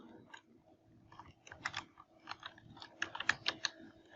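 Soft keystrokes on a computer keyboard as a word is typed, irregular quiet clicks in small bursts heard close up and alone.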